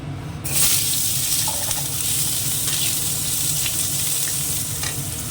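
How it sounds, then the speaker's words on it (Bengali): Potatoes drop into plenty of hot oil in a wok, bursting into a loud, crackling sizzle that continues steadily, close by, with occasional stirring scrapes. "কড়াইতে অনেকটা তেল আছে"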